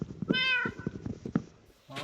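A cat meows in the video game Minecraft, one clear, drawn-out meow followed by a shorter one, with faint voices in the background.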